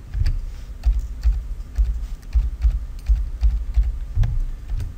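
Quick bursts of keystrokes tap out a student ID on a computer keyboard in a lab, a dozen or so distinct clicks with brief pauses, close and clear with no voices.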